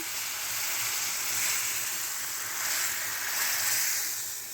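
A loud, sustained hiss of hot oil tempering sizzling as it is poured into dal, rushing and steady with gentle swells, no voices.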